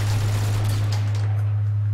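Rapid gunfire from a GoldenEye video game deathmatch rattles in quick bursts over a strong, steady electrical hum, fading into a quieter tail.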